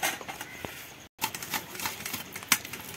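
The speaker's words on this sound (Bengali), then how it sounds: "এই যে এই গেটারটা তো সবার বাড়িতেই থাকে। এটার সাহায্যে আজকে তালের এই অংশটা বের করে নেব।" A metal hand grater scrapes ripe palm fruit pulp in quick, rough rasping strokes that sit close and fairly loud, with one brief silent gap partway through.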